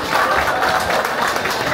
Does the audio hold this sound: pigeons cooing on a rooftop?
no